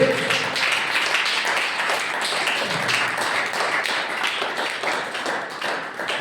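A church congregation claps hands together during a Sunday service. The clapping is dense, rapid and steady, continuing throughout at a lively, moderately loud level.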